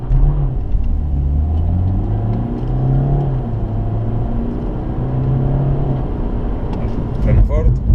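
A BMW accelerating on a race circuit, with a loud engine drone whose pitch rises and steps through gear changes, heard close from inside the car with a steady rumble.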